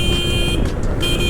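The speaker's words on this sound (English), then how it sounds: "Horn is loud." A 2025 Jawa 42 FJ 350 motorcycle gives two loud, close horn blasts separated by a short gap, sounding over constant riding and road noise.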